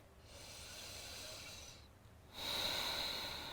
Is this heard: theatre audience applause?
no